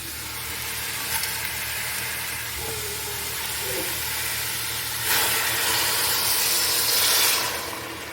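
Chicken pieces dropped into a hot pot sizzle steadily while rice bukhari cooks with cumin and spices, a continuous hissing fry that swells louder briefly near the end.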